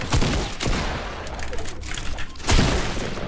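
Loud, dense gunfire in Fortnite: overlapping rapid shots and bursts fill the whole stretch, with a heavier cluster of blasts near the end.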